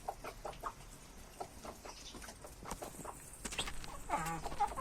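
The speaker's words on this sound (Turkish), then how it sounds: "Horoz sesi çıkar lan" Chickens cluck and fuss close by, with a rooster-like crow rising near the end over scattered farmyard noise.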